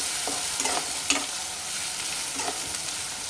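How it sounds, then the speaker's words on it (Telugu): Ginger garlic paste sizzles in hot oil for a bottle gourd curry, a steady close frying hiss with a few soft scrapes of stirring spaced through it. "ఈ అల్లం వెల్లుల్లి పేస్ట్ కూడా ఆయిల్లో మంచిగా మగ్గనివ్వాలి. మంచి కలుపుకుంటూ ఉండాలన్నమాట."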